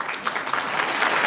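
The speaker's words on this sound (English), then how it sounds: "A big round of applause" On an independent-music radio broadcast, a short burst of many hands applauding plays at a strong, even level. The clapping is brief and dense, with no voices over it.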